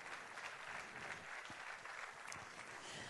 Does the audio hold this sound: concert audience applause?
yes